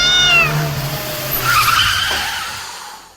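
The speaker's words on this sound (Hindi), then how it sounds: "और जब तक ड्राइवर ब्रेक लगाता, बिल्ली टायर के नीचे आ चुकी थी।" A car brakes as a sound effect, with a tire skid screech layered over a black cat's loud shrieking wail, which rises and then fades over about three seconds.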